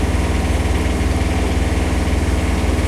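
An engine idling steadily at about 1,000 rpm, a close, loud, even rhythmic throb with a continuous low drone and no speech over it.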